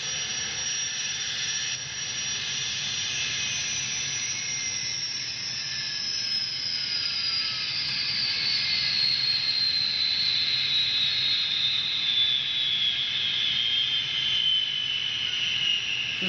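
A Scale Trains GTEL model gas turbine locomotive with LokSound 8500 emits a loud, continuous turbine whine, a high jet-like roar with a slowly descending tone, steady and close throughout.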